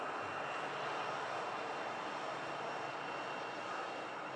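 EasyJet airliner at Manchester Airport, its jet engines giving a steady, even hiss and roar at moderate distance, alone with no speech.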